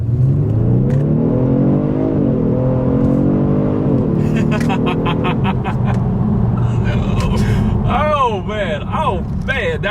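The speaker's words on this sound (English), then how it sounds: "let's do a quick little acceleration, letting the car do the shifting" A 2020 Genesis G70 sedan accelerates hard with its automatic transmission shifting itself: a loud, close engine note climbs steadily, drops at a gear change, then climbs again.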